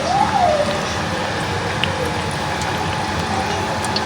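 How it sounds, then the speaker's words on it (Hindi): Eggplant slices fry in hot oil with a continuous dense bubbling crackle, steady and close, with no talking over it. "बैंगन को फ्राई करते हैं।"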